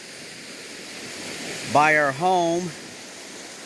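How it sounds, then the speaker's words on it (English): A storm-swollen creek behind a home rushes after heavy overnight rain, a steady close roar of water heard from a bridge, with a person speaking briefly over it. "this is the creek that runs all back behind our home"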